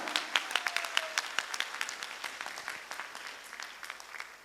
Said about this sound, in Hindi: सभी साथियों के लिए एक बार जोरदार जबरदस्त ताली होनी चाहिए सर